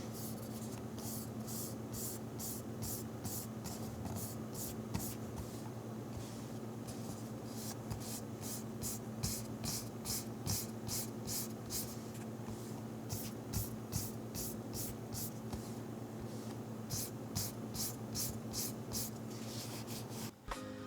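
A fingertip rubs the coating of a Razer Viper V3 Pro mouse, first the white shell and then the black one, a quiet, steady scratchy swishing in quick repeated strokes over a faint hum.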